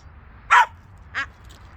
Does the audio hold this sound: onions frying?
no